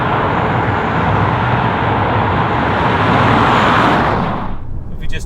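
A 2022 Kia Sportage 1.6 hybrid pulling hard after dropping a couple of gears, a loud sustained engine and road roar from inside the cabin that eases off near the end.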